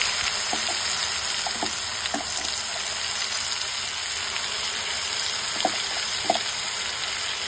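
Whole cumin sizzles in hot oil with fish curry paste, a continuous dense frying hiss with a few faint stirring clicks and taps throughout.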